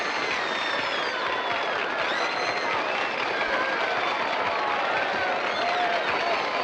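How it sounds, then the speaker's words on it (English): A large crowd at a 1960s-style film premiere roars and applauds continuously, a dense, loud wash of clapping and cheering with voices mixed in throughout. "The crowd is roaring so much."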